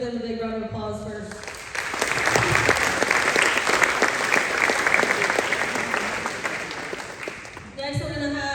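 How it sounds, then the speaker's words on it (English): A big round of applause from the audience at a high school sports awards night, building into a loud, sustained wash of clapping between stretches of a speaker's amplified voice. "So I just want to give them a big round of applause first."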